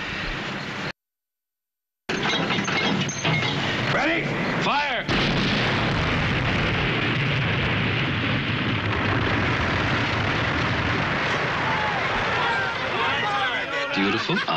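Artillery guns fire and shells burst in a wartime comedy scene with soldiers in stolen German uniforms, a dense, loud barrage of booms and rumbling that runs almost continuously after a brief silent gap, with talk mixed in.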